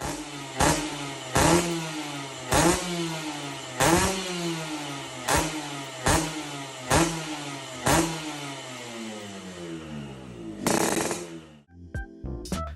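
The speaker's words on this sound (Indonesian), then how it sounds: "Kalau Air-Racking sudah menggunakan knalpot kolong, suaranya jadi lebih adem dan garing kayak gini." A two-stroke Yamaha RX King motorcycle engine with an underbelly exhaust revs repeatedly in sharp bursts, each blip rising and falling over a rough, crackling idle, close and loud.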